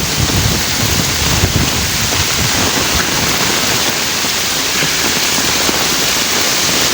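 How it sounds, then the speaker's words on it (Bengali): Heavy rain from Cyclone Remal pours down in a dense, loud, continuous roar, with gusty wind rushing through it and no voices. "প্রচণ্ড পরিমাণে বৃষ্টি পড়ছে তার সাথে জোরো হাওয়া বাতাস দেখেন"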